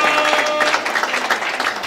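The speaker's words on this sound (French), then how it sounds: "Nous allons applaudir pour cette soirée." Brief burst of applause from guests at a Kimbanguist wedding celebration, a short dense patter of clapping filling the room at close range.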